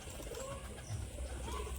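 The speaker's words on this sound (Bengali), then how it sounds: "একটা মাদি পায়রা, কালদমা গোছের ছাতি নর মাদি এটা।" Soft, low cooing from a female pigeon kept among fancy flying pigeons, a muffled, close call repeating over faint background noise.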